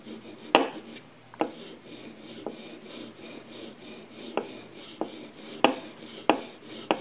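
A 1911 pistol grip safety edge is sanded by hand with sandpaper using light lengthwise strokes, producing soft scratchy rubbing with sharper scraping taps at irregular intervals, close and fairly quiet.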